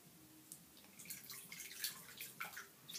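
Cold water splashing and dripping as a doll's hair is rinsed, a soft continuous trickle with small drips and sloshes, close and quiet.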